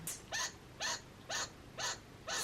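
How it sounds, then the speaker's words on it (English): A chinchilla gives five short, sharp barks at an even pace from another room, fairly faint, with no talking. "I can literally hear Nebula, my chinchilla, barking in the other room"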